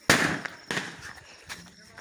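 Diwali firecrackers burst outdoors as several sharp cracks spaced apart, near and loud, each followed by a short crackling tail, with voices talking in between.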